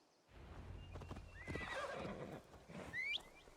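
Horse in the video game Assassin's Creed Valhalla, with hooves clip-clopping steadily under a close, clear neigh and whinny that rises in pitch near the end.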